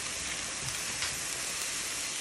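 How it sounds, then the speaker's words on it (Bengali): Dried shrimp (shutki) dry-roasting in a pan without oil makes a steady, fine crackling hiss like light rain, faint and continuous with no talking. "আমি শুটকিটা ভর্তা করার আগে হালকা একটু ভেজে নিব, এখানে কোনো তেল বা কিছু দেইনি, এমনি শুধু ভেজে নিচ্ছি"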